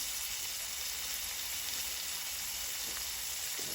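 Soy sauce sizzling in a hot pan while making chicken fry: a steady, close, continuous hiss of frying with no break and no talking.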